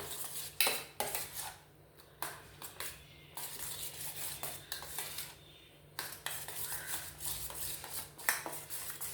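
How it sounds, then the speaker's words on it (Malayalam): A spoon stirs egg, ginger and other breakfast ingredients in a bowl, making repeated clinks and scrapes against the side in uneven bursts with short pauses. The sound is close and fairly quiet, with no talking. "എല്ലാം കൂടെ ഒന്ന് മിക്സ് ചെയ്യാം"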